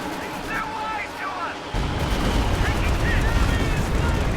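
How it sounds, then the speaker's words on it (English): Stuka dive bomber barrage in the Company of Heroes 2 game, with a 2v2 battle underway: the quieter opening gives way at about 1.7 seconds to a sustained, loud rumbling bombardment of blasts, with faint whistling overhead. "Here comes the first Stuka barrage though"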